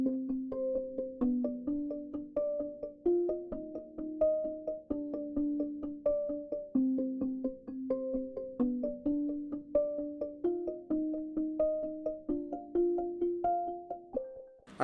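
Arpeggiated synth patch from Omnisphere, a steady stream of short repeating plucked notes in a looping pattern with a low sustained bed underneath, moderately loud and alone, ending with a sharp hit.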